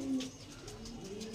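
Pigeons of the Panjabi breed coo steadily in low, rolling throaty notes, close and continuous over a faint background hum.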